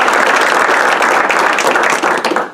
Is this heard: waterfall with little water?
no